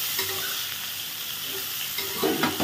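Chopped ginger, coconut and nuts frying together in a pan for bhog khichuri, a steady close sizzle with a brief stirring scrape near the end.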